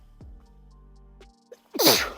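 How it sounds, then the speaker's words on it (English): A single loud, sudden sneeze from someone bothered by pollen during a simulator golf round, bursting out near the end after a few quiet seconds. "I can feel a sneeze coming with this pollen."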